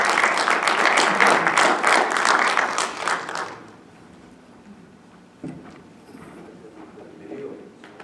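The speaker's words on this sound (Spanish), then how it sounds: "Llamamos pues con un aplauso fuerte" Loud applause fills the Mexican Congress chamber for an honorary doctor, a dense burst of clapping that lasts about three and a half seconds, then drops away to quiet room murmur with a few faint stray sounds.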